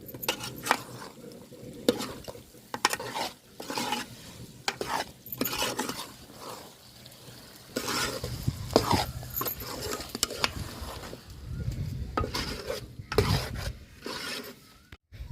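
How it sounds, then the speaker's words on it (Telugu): Chicken pieces stirred with chili powder in a pan for chicken curry, with repeated scraping and clanking of a spoon against the pan over a soft sizzle, irregular strokes continuing throughout. "కారం బాగా ముక్కలు పట్టేటట్లు కలుపుకుందామండి"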